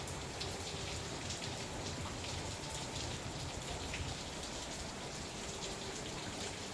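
Heavy rain pours steadily in Gensan, a dense, even hiss of drops hitting surfaces with no pauses, fairly close and continuous throughout.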